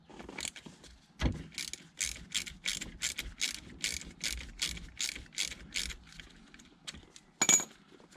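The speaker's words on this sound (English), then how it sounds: "we're going to be removing the drain plug in the centre of the black cap there. That takes a 6mm Allen" Ratchet with a 6mm Allen key loosening the oil filter drain plug on a BMW E60 M5, a quick series of rhythmic clicking ratchet strokes, close and fairly quiet, with a couple of louder knocks.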